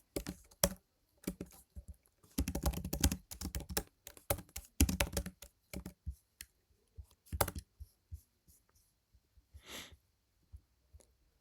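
Java code is typed on a computer keyboard, with fast bursts of close, clattering keystrokes broken by pauses and scattered single key taps, quiet overall and without speech.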